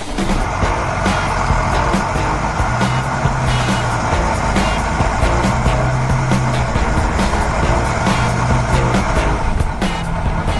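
A red tow truck drives along in a 3D cartoon about heavy machinery, its engine a steady, loud rumble with a continuous road drone and a few soft tonal hums under it, close and unbroken throughout.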